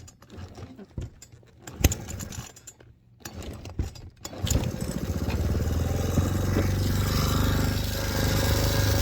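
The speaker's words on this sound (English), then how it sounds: "Let's start the motor back up." Aqua Marina Aircat 4hp outboard motor on a small boat: a few clattering pulls and mechanical knocks, then the engine catches and settles into a steady, close, buzzing drone.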